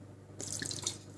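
Port wine poured into a chicken liver mixture for a parfait: a short, close splashing pour that begins partway through and runs steadily to the end, with no talking.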